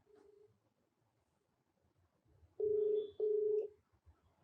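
A telephone call being placed, with two loud steady electronic tones like a ringback or dialing signal sounding back to back in a quiet room, preceded by a short fainter tone, no talk.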